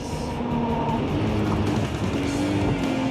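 A car engine strains up a sand dune in an off-road dune contest, a loud, steady, close roar that holds throughout with no speech over it.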